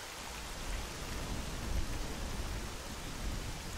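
Steady rain in the video game S.T.A.L.K.E.R. Call of Chernobyl makes a dense, even hiss that stays constant and fairly loud throughout, with no talking over it.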